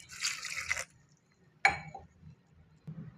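Water splashes briefly into a pressure cooker of lentils with onion and green chilies, followed by a clink and a short second pour, close and quiet.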